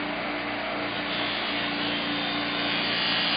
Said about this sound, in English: moving this piece of wood all over the wheel like this